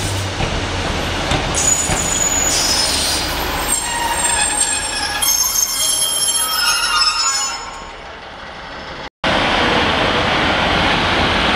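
A small two-car train pulls away with its wheels squealing loudly on the rails, shrill overlapping screeches over a rumbling roll that fades before a sudden cut to steadier track noise.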